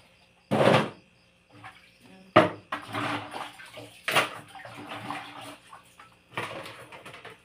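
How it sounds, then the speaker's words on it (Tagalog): Dishes washed with water in a bathroom without a sink: splashing pours and clatters come in separate bursts, with quieter gaps of dripping and handling between them, close by. "Nami sa CR manghugas."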